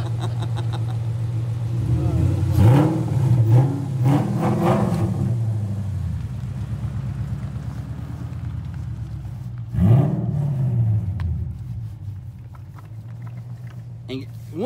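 A GT500's engine revs in two strong surges with a steady idle rumble between and after them, heard close and loud while people talk over it.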